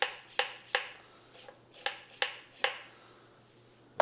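A vegetable is peeled with strokes pushed away from the body: about six short, crisp scraping swipes close by, spaced unevenly, then a brief quiet stretch, with no talking.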